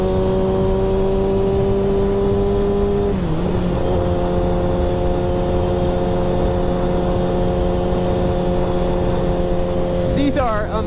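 A track motorcycle accelerates hard with a steady, loud engine drone whose pitch climbs, drops at a gear change, then holds and rises again near the end, heard close and continuous.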